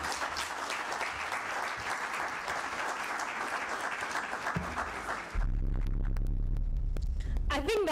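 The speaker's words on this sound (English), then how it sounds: "I think that speech definitely deserves another round of applause." An audience at a Ghana press conference for the Global Entrepreneurship event claps steadily after a speech, a continuous moderate applause that stops abruptly partway, giving way to low rumbling noise and a few faint clicks.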